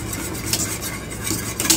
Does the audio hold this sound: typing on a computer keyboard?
no